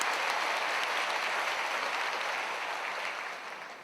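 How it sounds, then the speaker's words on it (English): Conference audience of delegates applauding at a plenary session on poverty eradication: dense, steady clapping from a large crowd, fairly distant, tapering slightly near the end. "I can hear your clapping"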